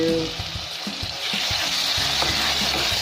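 Turnips being stir-fried for shuljum bhujiya hiss loudly in hot oil, with brisk stirring scrapes over a continuous close sizzle.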